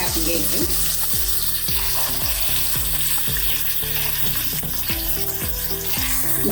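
Mutton fries with red onions for a spicy Tuljapur-style Dhawara mutton, a steady bright sizzle running under loud rhythmic drum-like music throughout.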